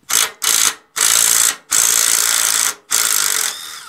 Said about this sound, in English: you're gonna need a 3/8 impact or socket. Take four bolts out.